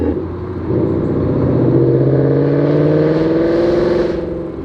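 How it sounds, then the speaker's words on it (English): A Ford Mustang engine revs loudly and close, a deep rumbling roar with rising harmonic tones that swells and holds before easing slightly, with no talking. "I forget how loud this car is."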